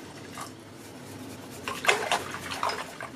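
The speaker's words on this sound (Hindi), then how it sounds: "1/2 कप पानी और डालेंगे।" Water poured into a curd and gram flour kadhi mixture in a kitchen, a soft splashing trickle building toward the end over faint background noise.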